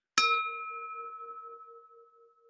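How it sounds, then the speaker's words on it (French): A single bell struck once during a mindfulness ceremony, a clear bright strike that rings on with a slowly fading, gently pulsing tone. "à la cloche qui retentit"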